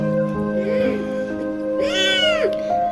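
Hungry stray cats in a housing area meowing, two or three drawn-out plaintive meows close by, the loudest rising and falling near the end, over a steady background hum with no talking.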